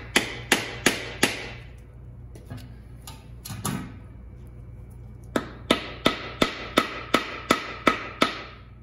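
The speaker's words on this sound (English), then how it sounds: "Just try a hammer." Sharp metallic hammer blows on a stuck part of a turbocharged Miata VVT engine during disassembly, a fast burst of four strikes, a pause with clatter, then a steady run of about ten evenly spaced, loud, close hits.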